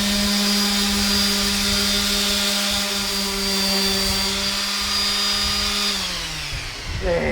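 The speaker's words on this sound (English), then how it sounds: "I then use my palm sanders to get rid of all the grinding marks" A palm sander smoothing a fossil sawfish specimen gives a steady, loud, high whine that holds for several seconds, then winds down as the motor slows.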